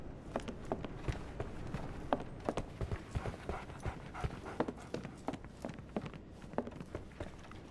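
A dog pants steadily in Sherlock Holmes The Awakened, with quick rhythmic breaths and soft clip-clop-like footsteps or taps over a rainy background, fairly close and without talk.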